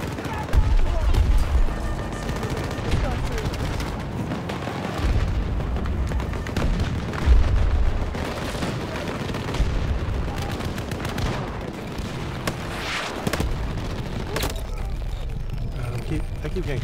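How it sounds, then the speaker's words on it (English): Gunfire and booming explosions from the Battlefield 2042 game, with repeated shots and blasts across a sustained battle din, heavy low-end impacts around the start and middle, while players talk over it. "Getting shot from the cliffs."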